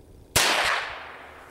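A German target pistol fired free-handed at 10 yards gives a single sharp report with a broad crack and a decaying tail, close and loud.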